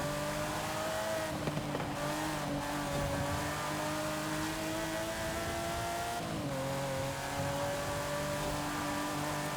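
A drag car in the racing game Forza Horizon 5 holds a loud, sustained engine drone, with the pitch dipping and climbing again at gear shifts, then carrying on steadily throughout.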